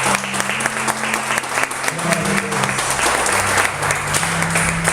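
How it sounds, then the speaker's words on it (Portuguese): A church congregation claps in a sustained, even burst during a worship service, loud and full, with some voices mixed in beneath the applause. "Vamos aplaudir a Jesus."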